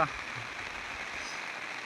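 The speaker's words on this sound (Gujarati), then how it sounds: "વરસાદ હજી ધીમો પડવાનું કાંઈ નામ લેતો નથી" Rain falls steadily, making an even, unbroken hiss that stays at a moderate level from start to finish.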